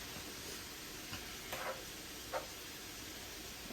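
Fajita meat sizzles in a pan preheated to about 400 degrees, giving a faint, steady hiss with a couple of soft stirring or shifting sounds partway through.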